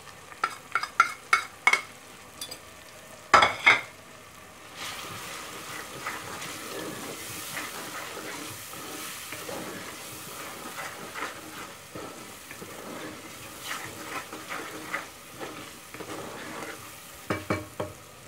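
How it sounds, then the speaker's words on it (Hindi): Spices with turmeric, salt, red chilli, coriander powder and garam masala being stir-fried with spinach and mutton in a pan, a run of sharp scraping stirs at the start giving way to a steady close sizzle, with a few more stirs near the end. "अब इसको भूनेंगे मसाले को"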